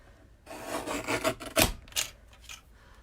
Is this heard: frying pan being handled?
no